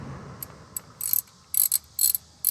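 A ratchet tightens the differential drain plug on a Jeep TJ/XJ Dana axle, clicking in several quick, sharp bursts close by, with short pauses between the rapid runs of pawl clicks.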